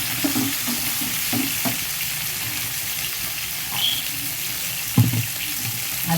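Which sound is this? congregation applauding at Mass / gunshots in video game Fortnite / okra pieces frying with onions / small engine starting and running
okra pieces frying with onions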